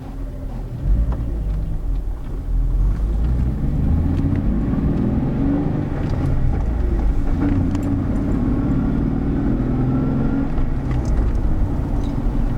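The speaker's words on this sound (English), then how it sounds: "I'll show you the acceleration we've got with that" Jeep JK/JL with a Hikeit throttle controller set to Sport 8 accelerating, a loud, close engine drone that rises and swells in waves over several seconds with road rumble beneath.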